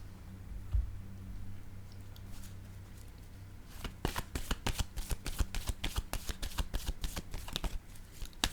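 A deck of cards being shuffled for a card reading: a quiet rustle at first, then a rapid run of crisp riffling snaps up close, with no talking.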